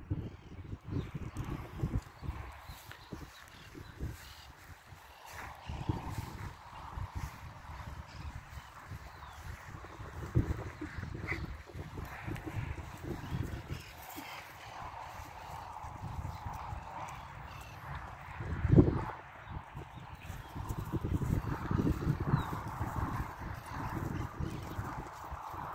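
Hooves of a sorrel overo ranch horse clop faintly on the ground as it trots in circles on a lunge line in a paddock, a steady distant rhythm with wind and a brief louder knock partway through.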